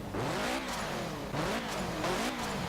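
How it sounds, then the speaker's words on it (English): A 1990 Subaru RS engine in Forza Horizon 4 revs up and down repeatedly while drifting, loud and continuous, with rising and falling pitch like gear changes during hard driving. "It sounds like the Subaru and sounds like the Mitsubishi Evo."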